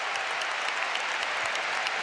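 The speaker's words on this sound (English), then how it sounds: "Another standing ovation for a Real Madrid player who's played his part tonight" A stadium crowd at a Real Madrid football match gives a standing ovation, dense sustained applause and clapping filling the space at a steady level, with no clear voices.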